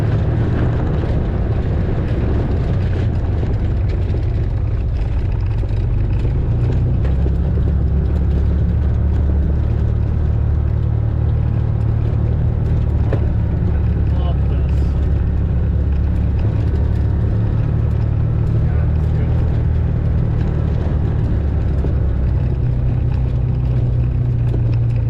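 A Can-Am Defender side-by-side drives along a trail at about 20 to 25 mph, its engine a loud, continuous low drone mixed with wind and rattling, steady throughout with no talk.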